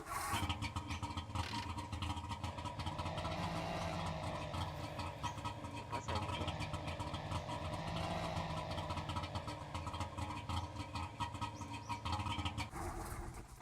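An in-game car engine from The Long Drive runs steadily for the whole stretch, a constant mid-loud droning hum with a slight rise and fall, as a voice speaks briefly over it.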